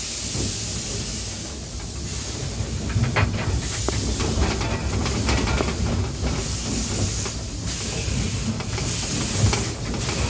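A historic steam locomotive held under steam at the Schwechat railway museum hisses loudly and steadily, a broad close roar of venting steam with faint mechanical clanks and ticks beneath.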